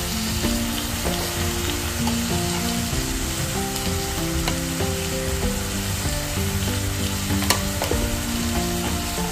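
Spices with salt, turmeric, red chilli powder and dried red chillies sautéing in a pan, a loud, steady, close-up sizzle and crackle throughout, with a faint stir click near the end.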